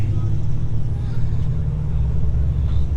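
A Plymouth Valiant car drives past at a cars and coffee meet at Charlotte Motor Speedway, with a steady low engine rumble close by throughout.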